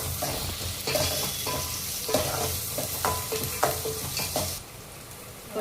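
Mustard seeds, cumin, onions, curry leaves and dried chilies fry together in hot oil for stuffed brinjal, giving a steady loud sizzle broken by repeated scraping stirs, the hiss easing near the end.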